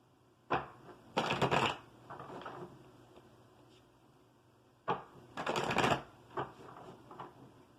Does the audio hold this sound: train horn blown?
no